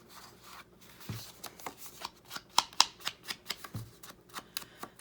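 A sheet of 12x12 patterned paper being folded and creased into a pocket, with soft rustling and a run of quick crisp rubbing taps up close, fairly quiet and without talk.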